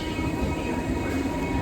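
A train rumbles at an outdoor railway station in cold weather in the Netherlands, a continuous low, loud rolling roar with a faint steady whine above it, filling the whole short stretch without talk.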